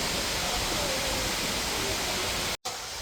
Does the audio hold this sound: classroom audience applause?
no